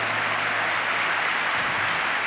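Applause from a church congregation at a Catholic youth gathering, a steady broadband wash of many hands clapping together, moderately loud and continuous throughout, with no voices standing out.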